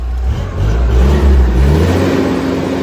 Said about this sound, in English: Oh, it's got an actual rev limiter.